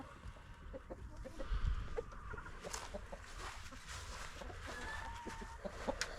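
Wyandotte chickens clucking softly at a distance, scattered low calls over a faint outdoor background, with no voices.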